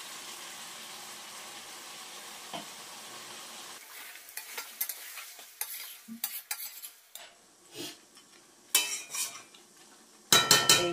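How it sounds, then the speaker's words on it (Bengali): Meat fried with ginger, garlic and tomato paste is stirred in a pan: a faint sizzle at first, then scattered close scrapes and clanks of the spoon growing louder toward the end. "এবার এটাকে আমি ভালো করে কষিয়ে নেব"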